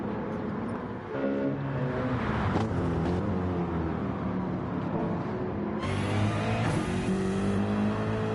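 A BMW race car in Gran Turismo 7 runs with a continuous, loud engine drone whose pitch climbs and shifts through gear changes, with no talking over it.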